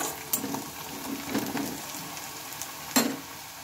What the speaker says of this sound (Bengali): একটু লাল লাল করে পেঁয়াজটা ভেজে নেব।